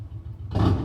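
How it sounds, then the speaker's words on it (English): A motorcycle passes outside in a residential neighborhood, its low engine rumble rising sharply midway through the short moment as it draws near. "Excuse the motorcycle."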